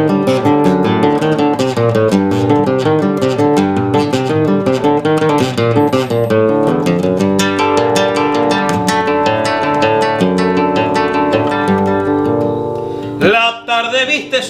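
Solo guitar plays a milonga in the southern style of Buenos Aires province, busy plucked bass and chord patterns in a steady rhythm, loud and close, ending with a final strum and a brief pause.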